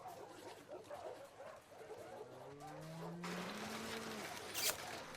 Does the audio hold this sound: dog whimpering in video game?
yes